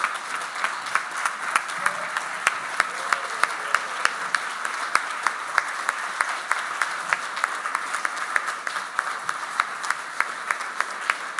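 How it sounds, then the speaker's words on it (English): An audience applauds award recipients at an installation and awards event, a steady, moderately loud wash of clapping lasting about eleven seconds with no talk over it. "One more round of applause."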